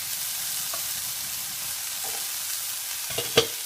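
Mushrooms frying in a pan, a dense, even hiss of sizzling held at a steady level throughout, with a couple of faint clicks near the end.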